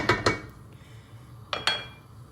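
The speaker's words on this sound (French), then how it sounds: "Je vais touiller un petit peu en attendant que ça chauffe" A spoon stirring onions, tomatoes and spices in a pot for Algerian-style chicken rice, giving two pairs of sharp metallic scrapes and knocks separated by a quiet simmering pause.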